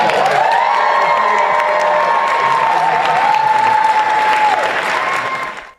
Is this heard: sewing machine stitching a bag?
no